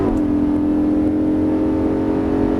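Lamborghini Gallardo LP550-2 accelerating on the Circuit Haute Saintonge: a steady, loud engine drone held close and continuous with a strong low rumble and no voices.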